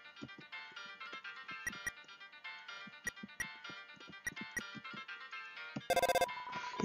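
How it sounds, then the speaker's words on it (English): A cell phone ringtone in the Deltarune video game, a bright electronic melody of repeated tones with sharp clicks, ending in a louder burst of dense ringing near the end. "You tried to call on the cell phone."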